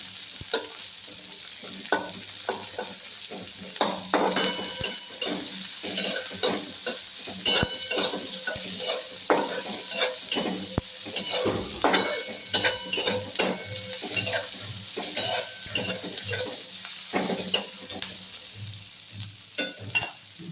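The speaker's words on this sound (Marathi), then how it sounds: "कांदे मस्त परतून घेऊया ग्रेव्ही बनवण्यासाठी" Onions and garlic sautéing in a pan for chicken gravy, a steady close sizzle broken by frequent scraping and stirring clatters of a spatula against the pan, with no talking.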